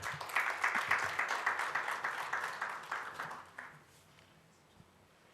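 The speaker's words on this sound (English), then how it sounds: "So with a huge round of applause, please help me welcome Alok Jain on the platform." Audience clapping for a speaker at an investing event, steady and moderately loud with many hands for about three and a half seconds, then thinning out and fading to near quiet.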